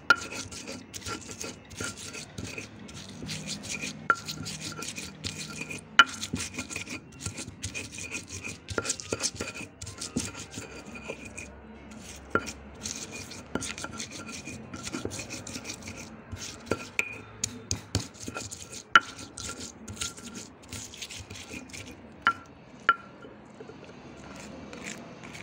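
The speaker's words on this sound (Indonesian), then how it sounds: "Haluskan bumbu-bumbu sampai halus." Spices for spicy seblak being ground smooth without a mortar: a steady, close rasping and scraping with frequent sharp knocks and clicks, running without a break and with no talk.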